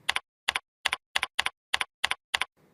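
Computer keyboard typing heard alone as eight short, evenly spaced bursts of clustered keystrokes, close and crisp, with silence between each burst.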